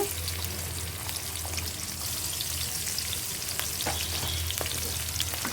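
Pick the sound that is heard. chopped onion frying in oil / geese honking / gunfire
chopped onion frying in oil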